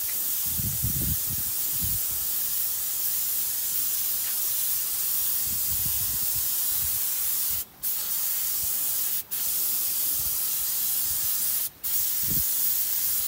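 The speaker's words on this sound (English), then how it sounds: "We've got our paint sprayer hooked up to our air compressor." Paint sprayer hooked to an air compressor, spraying a thinned paint undercoat onto chairs: a continuous close, loud airy hiss with three brief pauses as the trigger is released, faint low bumps and handling noises underneath.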